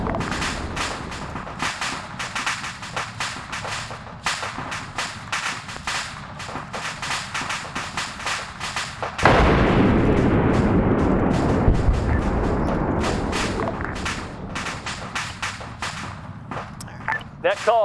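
A heavy airstrike in a large PvP video game battle lands as a sudden loud roaring burst of explosions midway. It follows a stretch of rapid gunfire and talk, and the rumble sustains and slowly fades under more shots.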